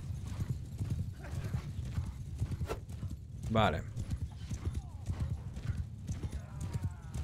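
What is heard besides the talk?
horses galloping, mounted archers in Mount and Blade 2 Bannerlord video game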